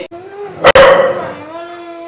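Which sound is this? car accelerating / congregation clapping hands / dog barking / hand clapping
dog barking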